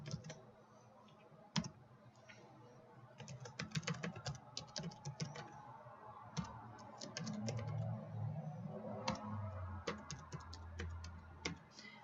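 Keys clatter on a computer keyboard as a file path is typed into a Windows AppLocker rule, with quick irregular clicks and short bursts over a low background hum.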